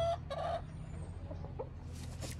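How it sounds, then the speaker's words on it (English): Chickens clucking and a rooster's brief cry nearby from a flock of hens and two roosters, with scattered squawks and rustling in a farmyard setting. "So I have 10 chickens. I have two roosters"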